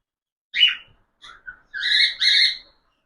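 Cockatiels kept for sale call in short bursts, a few brief chirps followed by two louder, longer whistling calls close by, with no talk over them.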